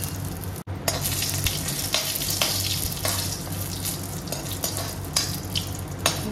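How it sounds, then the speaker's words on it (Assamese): Panch phoron spices, dry chillies and bay leaves crackle and sizzle in hot mustard oil, a dense close frying hiss with scattered pops and no talking. "পাঁচফোৰণখিনি খুব ধুনীয়াকৈ ফুটিছে আৰু এতিয়া মই ইয়াতে শুকান জলকীয়া আৰু"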